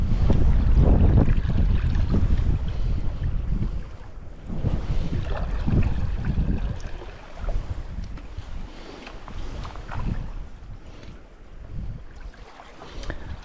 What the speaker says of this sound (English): The wind is blowing me at 5 kilometres an hour, which is never a good sign